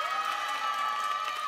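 An audience in a church youth service breaks into a brief burst of cheering and applause, a dense wash of crowd noise with a sustained tone running through it.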